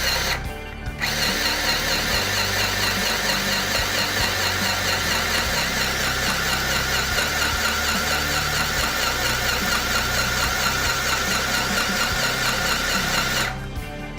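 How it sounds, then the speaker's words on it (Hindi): An electric sewing machine stitching cloth under foot-pedal control runs in one continuous loud, whirring, rapid mechanical chatter for about twelve seconds, starting and stopping abruptly. "तो अब हम फुट पैडल की मदद से स्टिचिंग करके देखते हैं।"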